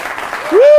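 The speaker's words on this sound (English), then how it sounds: "Give Steve a big round of applause." Audience at a magic lecture breaking into applause after a card trick, with a voice rising into a sustained shout over the clapping.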